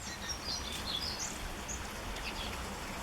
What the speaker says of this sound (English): You hear the finches.